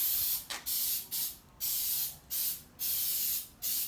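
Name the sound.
spray painting a coat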